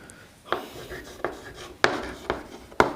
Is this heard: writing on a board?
yes